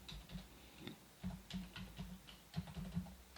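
Typing on a computer keyboard while setting up a Linksys EA7500V2 router, with a quick run of soft, close key taps in an uneven rhythm over a quiet room and no talking.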